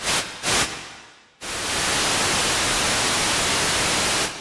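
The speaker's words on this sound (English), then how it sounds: "Okay, so there's our basic white noise." Broadband white noise generated by a Haken Continuum running the EaganMatrix synthesizer, a steady loud hiss that follows a few short bursts and holds evenly for about three seconds.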